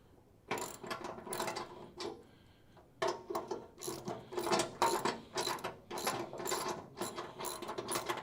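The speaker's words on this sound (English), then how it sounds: "get a socket and a ratchet to try and thread that" A socket ratchet clicks in quick, repeated bursts while threading a bolt during wheelhouse replacement on a 1969 Dodge Coronet, the pawl rattling close and loud with short pauses between strokes.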